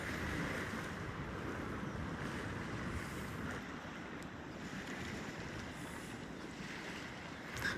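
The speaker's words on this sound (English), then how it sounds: "Wind is slight right now, a little variable wind." Gentle, shifting wind at a beach sounds as a soft continuous rush of breezy noise mixed with faint surf, fairly quiet and unbroken, with no voices.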